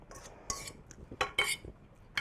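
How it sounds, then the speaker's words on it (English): Cutlery and dishware clink as salad is placed onto a plate for a picnic meal, with a few sharp scrapes and taps in quick succession close by, no talking. "I'm going to put the salad on my dish."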